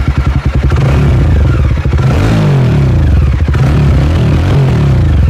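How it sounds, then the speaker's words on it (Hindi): A Jawa 42 motorcycle fitted with an aftermarket exhaust runs close by, its engine thumping with a rough, clattering pulse that rises through a couple of revs and then settles back down. "एग्जॉस्ट का साउंड एक बार आपको सुनाते हैं भाई, एक बार स्टार्ट करके दिखाओ।"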